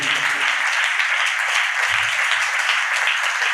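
A church congregation claps loudly in praise, a thick, unbroken roar of many hands that stays strong and even throughout, with a brief low thump partway through.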